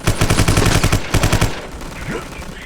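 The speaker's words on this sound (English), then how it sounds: "They will actually shoot at other threats." Enemies fire on threats in the video game Vivisector: Beast Within, with loud, rapid automatic gunfire in two stuttering bursts that cut off into a quiet background.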